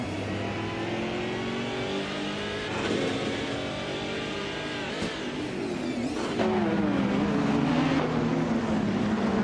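Race cars accelerating in a racing video game, several engines whining and revving upward together in a dense, rising roar that holds close and loud throughout, with no talking.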